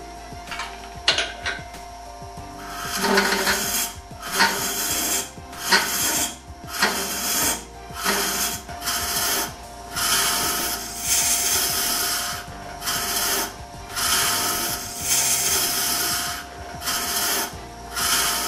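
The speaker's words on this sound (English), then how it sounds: "We will continue to hollow, but make regular stops to clear shavings and check our progress." A Robert Sorby Ultima tool hollows a wooden piece spinning on a lathe, giving repeated scraping, rasping cuts in uneven bursts with brief pauses, close and moderately loud over a steady motor hum.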